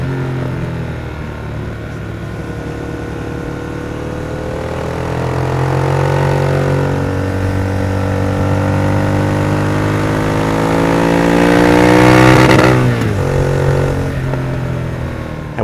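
A Speed Twin motorcycle engine with a deep, loud aftermarket exhaust idles, then revs up in a rising swell before easing back to a rumbling idle.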